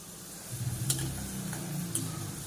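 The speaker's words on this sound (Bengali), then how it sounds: "এটা ভাজছি যাতে সেদ্ধ হয়ে যায়" Soft, steady sizzle of thick-cut raw potatoes frying in oil, fairly quiet, with a couple of faint clinks of a utensil against the pan.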